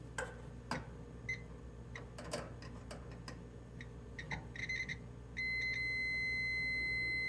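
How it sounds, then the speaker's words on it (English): A multimeter tests continuity on a part from a Kenmore 80 Series electric dryer, with scattered clicks and probe taps followed by a steady continuous beep that holds to the end. "we're going to meter that, and we should see continuity"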